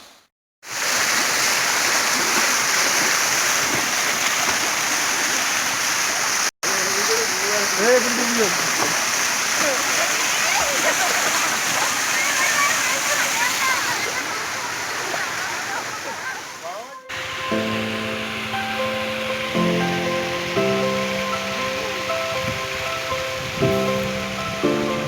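Konni waterfall in Pathanamthitta, Kerala, roars as a loud, continuous rush of falling water. Part way through, music joins the steady torrent.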